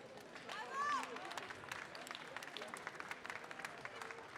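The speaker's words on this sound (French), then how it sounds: "on peut encore l'applaudir, s'il vous plaît" An audience at a France 2016 World Cup Tasters award ceremony claps in sustained, fairly distant applause, with a brief voice and some background chatter mixed in.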